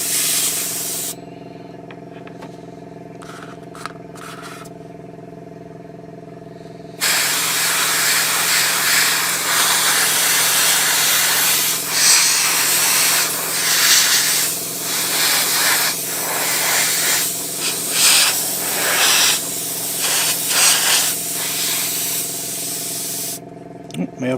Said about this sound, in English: My airbrush is running on.